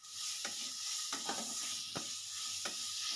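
Capsicum and spices sautéed in a pan for chicken bread pakora, a continuous soft sizzle broken by four evenly spaced scraping stir strokes, close and steady, with nobody speaking.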